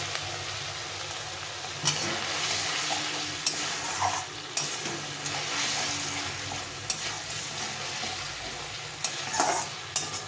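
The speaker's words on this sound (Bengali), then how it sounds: "মশলা বাটিটা দিয়ে একটু জল দিয়ে এটাকে ভালো করে কষিয়ে নেব" Ground spice paste with a splash of water sautéing in a pan for a potol (pointed gourd) recipe, a steady loud sizzle broken by repeated sharp scrapes and clinks of a spoon stirring, with no voices.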